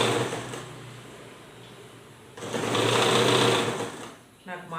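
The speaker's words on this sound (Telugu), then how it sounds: "ఇలా పెట్టుకొని ఇక్కడ మార్క్ చేసిన దగ్గర వరకు స్ట్రైట్గా కుట్టేయాలి" A sewing machine stitches a straight seam on a boutique-style frock bodice with a steady close whir that rises in the middle. Someone talks over it throughout.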